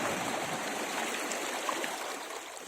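River current rushes and washes against rocks on a beach, a continuous close, full hiss of flowing water with faint gurgles and no pauses or talking.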